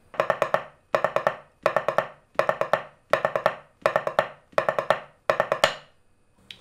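Snare drum figures from a military corps of drums, played as the inverse of a quaver-semiquaver grouping in sextuplets, repeating as eight short clustered bursts of crisp strokes with brief gaps between them, close and clear with no voices.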